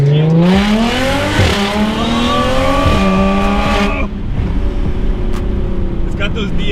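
Audi S4 fitted with an Armytrix exhaust revving hard through repeated upshifts, each rise cut by a sharp DSG gearshift pop, loud and close, then settling into a lower rumble.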